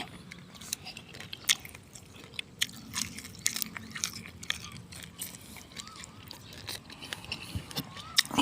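Someone eats a spicy Thai noni leaf salad, with close, irregular crunchy bites and wet chewing going on steadily and alone, without talk.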